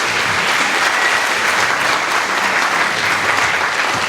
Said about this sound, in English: I want all of us to give ourselves a round of applause.